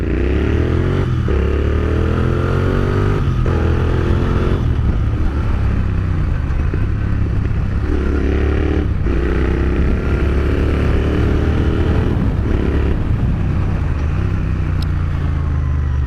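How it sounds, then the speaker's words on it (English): A motorcycle fitted with an aftermarket free-flow exhaust idles and revs repeatedly, a loud close rumble with rising throttle sweeps and brief drops between blips, sustained over the whole stretch without speech. "so if I really rev it like that, I will hear a constant note sound"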